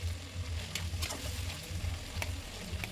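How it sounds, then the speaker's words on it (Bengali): Ginger, garlic, coriander and cumin paste sizzles in a pan for chicken ghugni, a close, even frying hiss with soft low bubbling and a few scraping strokes of a stirring spoon. "এক এক করে দিয়ে আমি এটা নাড়তে থাকবো।"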